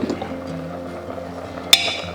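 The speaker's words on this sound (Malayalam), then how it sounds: "ഒരു ശകലം വെള്ളം നമുക്ക് അതിനകത്തോട്ട് ചേർത്ത് കൊടുക്കാം." Water is poured into a pan of Kottayam-style pork stir-fry, making a soft, close liquid splash. A single sharp clink from the pan sounds near the end.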